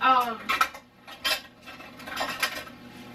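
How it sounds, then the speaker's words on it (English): Pots and cutlery clatter and clink in a few sharp bursts during dishwashing at a kitchen sink, fairly close, with a brief voice at the start. "it's going to be loud though because I'm always loud whenever I'm doing dishes."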